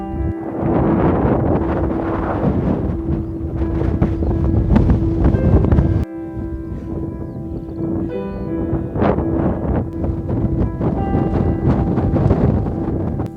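Cool wind buffets the microphone while cycling up toward Tan Hill Inn, a heavy, continuous low roar that rises and falls in gusts with a brief drop partway through.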